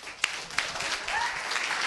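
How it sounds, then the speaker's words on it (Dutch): At a neighbourhood talent show dinner in a restaurant in Kanaleneiland, the audience gives the jury a lively round of applause, a dense clatter of many hands with a couple of sharp claps near the start and faint voices underneath. "Spetterend applaus voor onze jury."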